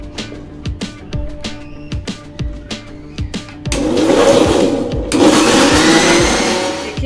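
A mixer grinder whirs as it blends green chilies and garlic, starting with short choppy pulses and then settling into a loud, steady grinding roar close by.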